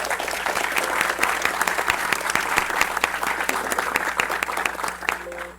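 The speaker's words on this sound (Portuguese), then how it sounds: "Vou pedir uma salva de palmas aqui para..." An audience claps steadily at a hospital tech bootcamp event, dense sustained applause of many hands at even loudness throughout, with a brief tone near the end and no speech.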